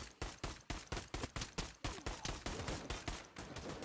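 Rapid pistol gunshots from the video game Pavlov, a close, loud string of sharp cracks fired in quick succession, roughly fifteen to twenty shots in under four seconds, with the pace steady at first and then blurring together.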